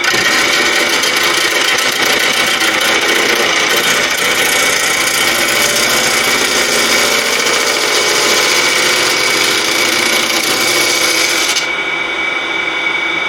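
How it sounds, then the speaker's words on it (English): A wood lathe hollows out a blue gum bowl, the tool cutting the spinning wood with a loud, continuous scraping roar over a motor hum, sustained throughout with a slight drop near the end. "continue hollowing out the bowl"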